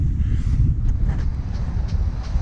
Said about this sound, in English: So we are in another gust.